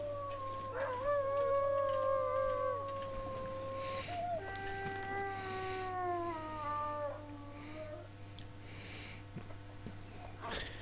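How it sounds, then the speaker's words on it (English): Wolves in the video game The Long Dark let out several long, wavering howls, overlapping rising and falling tones carried over a steady low hum and faint wind-like noise, with no talking. "You can howl at me as much as you like, Wolfies."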